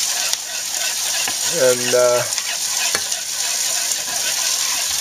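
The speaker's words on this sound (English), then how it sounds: "we're letting our vegetables kind of cook up a little bit" Vegetables sizzle in a hot pan while being stirred, a steady close frying hiss with scraping movement and one brief spoken word.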